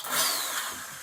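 Power drill whirring at high speed as it bores into a wall during a wardrobe makeover, a single loud, close burst of about a second.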